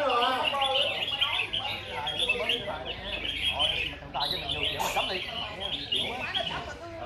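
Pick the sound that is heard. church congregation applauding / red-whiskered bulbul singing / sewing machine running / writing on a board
red-whiskered bulbul singing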